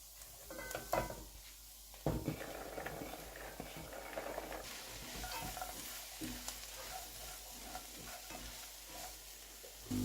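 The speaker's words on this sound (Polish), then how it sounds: "dołożymy teraz pietruszkę i marchewkę. I kolejne 10 minut smażymy." Parsley and carrot sizzle and fry in a pot while a utensil stirs and scrapes against the metal, with occasional clinks throughout.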